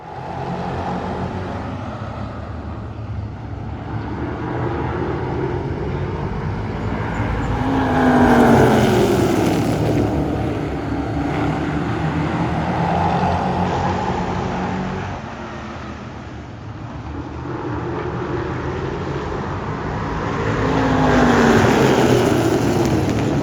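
Race cars drive laps during a heat at White Mountain Motorsports Park, their engines roaring steadily and swelling as they pass near, with no talk over the continuous racing noise.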